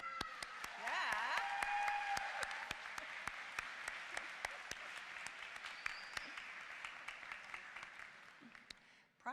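An audience at a university convocation breaks into applause, a dense burst of clapping that holds for several seconds and gradually thins to scattered claps before fading out, with a voice briefly audible.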